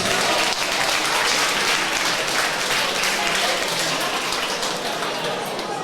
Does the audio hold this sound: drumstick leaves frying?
no